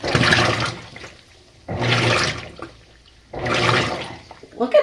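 A loaner washing machine on its delicate cycle, with three loud bursts of water sloshing and swishing in the drum, each separated by quieter pauses, heard up close with no talk.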